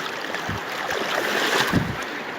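Fast-flowing river water rushes past during a boat crossing of the Krueng Pasee in a continuous broad wash with wind buffeting the microphone and a few soft low thumps against the hull.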